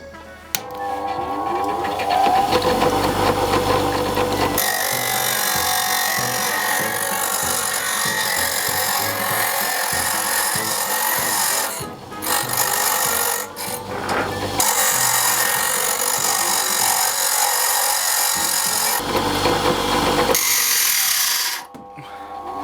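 A ProCraft bench grinder with an asynchronous motor runs loud and close as metal is pressed hard against the stone, giving long harsh grinding bursts broken by brief pauses when the pressure eases.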